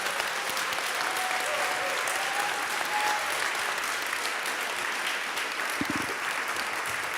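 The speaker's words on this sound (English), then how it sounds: "I think that deserves a round of applause." Steady, dense applause from a conference audience at the European Harm Reduction Conference in Warsaw, a continuous wash of many hands clapping for about seven seconds, with a brief voice near the end.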